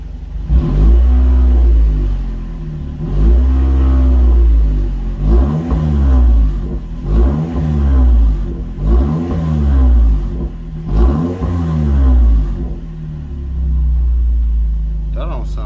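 A 2021 Toyota Camry with a newly installed exhaust revs repeatedly in loud, rising bursts roughly every two seconds, deep rumble swelling and dropping back to idle, with people talking faintly between the revs.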